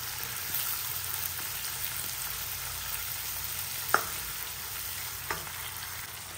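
Curry leaves, onion and garlic fry in a pan with a steady, close sizzle, broken by two sharp clinks of a spoon against the pan.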